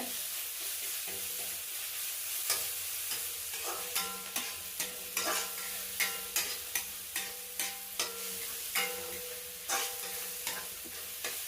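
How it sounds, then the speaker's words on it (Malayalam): Garlic frying in a pan, a steady close sizzle under repeated soft scrapes and taps of a stirring spoon. "വെളുത്തുള്ളി നല്ലോണം ഒന്ന് ഇട്ടുമിൻ്റെ പച്ചമണം ഒന്ന് പോയി കിട്ടട്ടെ"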